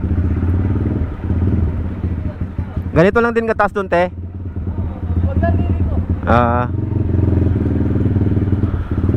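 A motorcycle rumbles through flood water on a submerged street in Malolos, Bulacan, its engine droning steadily with splashing clatter, while people talk nearby and brief tonal bursts cut through.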